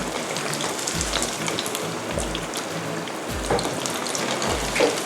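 Golden pouches (thung thong) deep-frying in hot oil, a steady dense crackle and bubbling sizzle with a few soft low thumps recurring at regular intervals.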